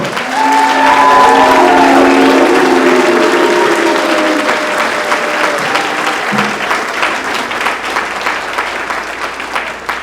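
Basketball arena crowd at a home event cheering and applauding loudly, with drawn-out low chanting like booing early on, then rhythmic clapping continuing steadily throughout.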